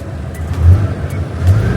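A Hino 380 truck engine with an add-on accelerator controller rumbles deeply as the pedal is pressed, with two heavier low surges in a brief, close, loud stretch.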